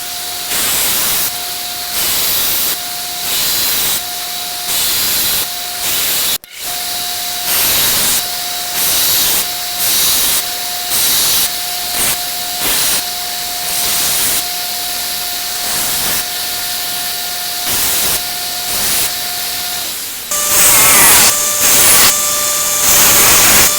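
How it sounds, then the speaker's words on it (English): Specific blowtorch heating a knife blade for quenching, a loud steady roaring hiss that runs continuously, pulsing slightly in rhythm and brightening near the end. "I mentioned that you needed a very specific kind of blowtorch in order to do the quench on this."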